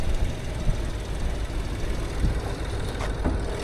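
A 2025 Chevy Trailblazer RS with a 1.3-liter turbocharged gasoline engine idling, a steady low rumble with faint mechanical ticking, close and even throughout with no talk.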